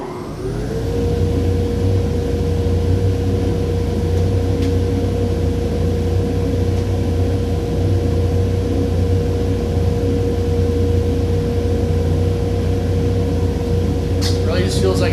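Steady, loud blower hum of a dust collector fitted with an upgraded Wynn filter: a broad constant roar with a sustained tone, running continuously from start to finish after a brief spin-up, with faint handling noises near the end.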